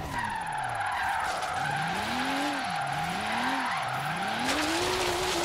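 Nissan S-chassis car drifting in the Forza Horizon 3 racing game, its engine note rising and falling in wavering sweeps over a steady, continuous tire skid squeal, loud and close throughout.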